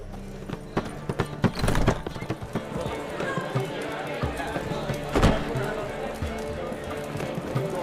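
Roach, the horse in the video game The Witcher 3, gallops with a quick drumming of hoofbeats, at times loud and close, over a steady background, while a voice speaks.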